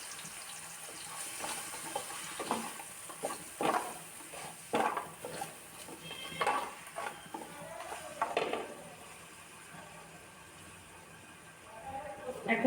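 Vegetables being sautéed in a pan with ginger and garlic paste, giving intermittent bursts of stirring, scraping and sizzling over a low steady background, with a brief voice near the end.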